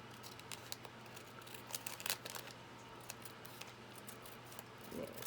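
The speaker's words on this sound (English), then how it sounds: "let me just give this a cut right here" Scissors cut paper during a papercraft session, giving faint, scattered snips and soft crinkling rustles over a low steady background hum, close to the listener and heard without talk.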